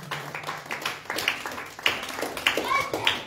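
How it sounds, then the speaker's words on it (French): Church congregation claps and cheers during a French-language worship service, several quick bursts of hand clapping mixed with voices and shouts, close and lively. "Acclamons le Seigneur notre roi."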